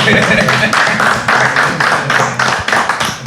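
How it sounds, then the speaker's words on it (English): A group claps together in a burst of quick, loud, uneven hand claps lasting a few seconds, close by with voices mixed in. "let's clap it up for us."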